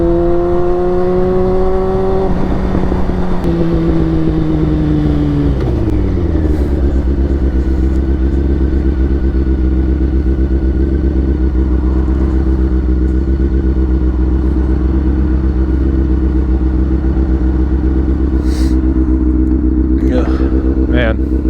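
A Honda CBR sport bike engine under way, a loud steady drone that climbs in pitch through the gears and then settles into an even cruise, with wind rush throughout and a few brief clicks near the end.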